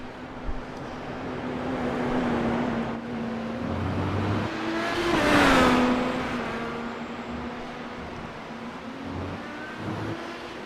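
A race car engine in an iRacing IndyCar race drones steadily, then swells to a loud, rising whine as the car passes close entering pit road, and drops back to a lower hum, with no voices.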